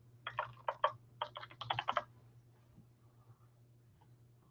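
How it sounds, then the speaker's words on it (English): A computer keyboard clicks in two quick bursts of typing, close and crisp over a low steady hum, followed by near silence and a single sharp click at the end. "I'm just going to type in add field."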